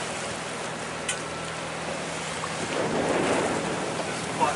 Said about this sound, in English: All that water movement. It's just from the tide pouring out against